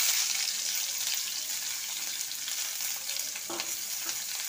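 Three medium-sized onions fry in hot oil left over from frying eggs, giving a steady, bright sizzling hiss with faint stirring, and no voices.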